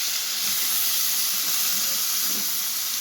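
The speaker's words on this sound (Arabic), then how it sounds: "زي ما انتوا عارفين بقى بشوح برضو الشعرية مع الرز" Vermicelli and rice sauté in a pot with a steady, close sizzling hiss of hot oil, occasionally stirred.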